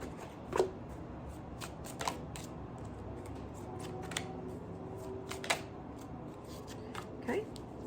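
Tarot cards are shuffled close up, a soft steady riffling with a few sharper flicks and taps scattered through, quiet and without talk.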